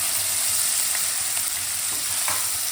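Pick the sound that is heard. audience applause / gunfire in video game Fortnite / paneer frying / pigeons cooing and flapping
paneer frying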